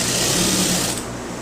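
A sewing machine stitches a waistband, running steadily and close for about a second before its busy rattle drops off to a softer tail.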